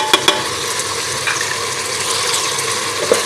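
Finely crushed green chillies fry in a pan for beef tarka daal, giving a continuous sizzle with a few sharp clicks of stirring near the start and end.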